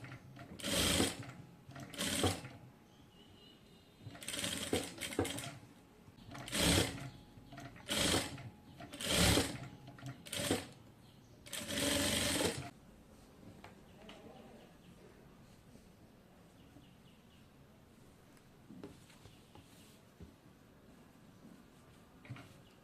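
A domestic sewing machine stitching a designer neck onto a kameez runs in short bursts of whirring, about eight starts and stops separated by pauses, close and fairly loud, followed by a quiet stretch of room noise.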